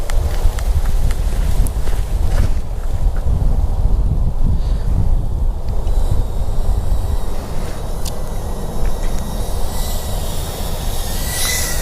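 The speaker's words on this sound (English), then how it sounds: "the wind is just freaking killing me" Outdoors, wind buffets the microphone as a loud, continuous low rumble for the whole stretch, with a few faint clicks and higher whines drifting in and out and no talking.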